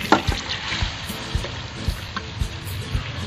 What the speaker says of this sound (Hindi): तो अब ये जो अपना मैरिनेट हमने किया था चिकन, ये इसमें शामिल कर देंगे